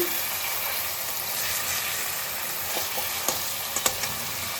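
Spice paste stir-frying in oil for banana flower kofta curry, a steady close sizzle with occasional spatula scrapes and taps toward the end.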